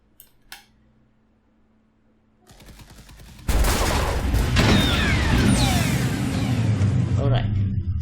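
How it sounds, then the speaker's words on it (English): Rifle gunfire hitting a helicopter in an Unreal Engine game, heard after a quiet start and a few faint clicks as a sudden loud, sustained barrage of rapid shots and impacts. A voice talks underneath. "since this is a rifle, you will have to do many shots, and in a while this will explode eventually."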